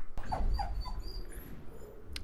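A dog whimpers close by in a few short, high, wavering whines, fairly quiet, with a brief click and some faint background noise around it.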